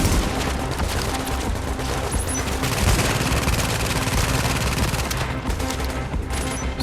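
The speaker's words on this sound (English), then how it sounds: "See how much work that turret just did?" A deployed turret in The Division video game fires rapid automatic bursts, a loud, dense, continuous rattle of gunfire that lasts the full seven seconds with little pause.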